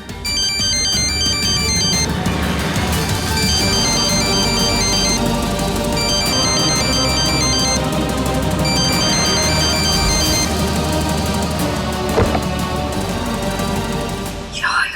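A mobile phone ringtone plays loudly and continuously, a bright repeating electronic melody cycling in short phrases for the whole stretch before cutting off at the end.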